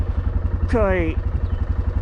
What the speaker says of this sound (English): it got 95 horsepower on it, and we use this tractor